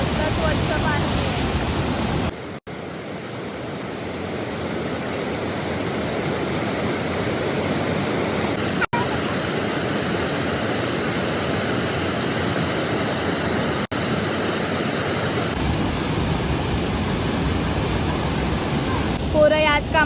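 Fast fountain jets of clean water pour out a continuous, loud hissing roar from start to finish, broken by a few sharp clicks, with faint chirping sounds near the end.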